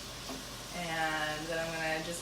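Large shrimp for scampi sizzle steadily in a hot pan as they are moved around, a soft continuous frying hiss heard under a person talking.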